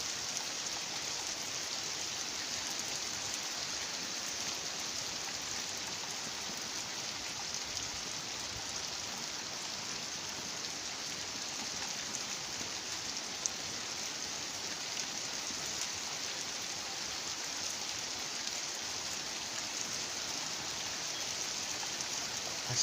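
Heavy rain falling on a village, a continuous dense hiss of downpour lasting the whole stretch with no voices, steady and unbroken.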